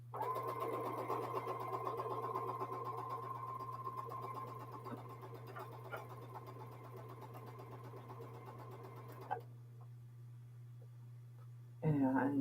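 A sewing machine stitching jelly roll quilt strips in chain piecing, a close steady mechanical whir with rapid needle rhythm for about nine seconds, then stopping, with a low constant hum underneath and a brief sound at the end.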